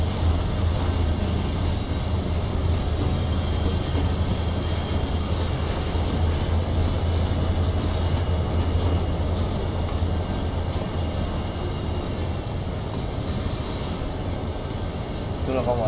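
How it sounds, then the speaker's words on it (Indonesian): A diesel locomotive in the Train Sim World game, similar to CC 201, CC 203 or CC 204 units, idles steadily with a constant low rumble and hum throughout, loud and unbroken. "Itu lokomotif dari tadi ngebul tapi nggak jalan-jalan."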